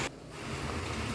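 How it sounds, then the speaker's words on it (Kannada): Pineapple gojju boiling hard in a pot on a stove, a dense steady bubbling hiss that swells slightly and continues evenly, close and fairly loud with no talk. "ನೋಡಿ ಚೆನ್ನಾಗಿ ಕುದಿ ಬರ್ತಿದೆ"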